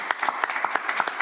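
Brief close clapping at the end of a session for a frame drum gathering, a quick run of distinct hand claps with a steady, rapid rhythm.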